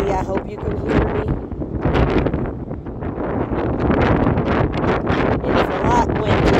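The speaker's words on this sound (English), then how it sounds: "Getting a bit windy. I hope you can hear me." Strong wind blasts across the open deck of the Carnival Glory cruise ship, a loud, continuous roaring rush buffeting the microphone and mixed with a voice.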